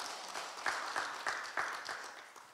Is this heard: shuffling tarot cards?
no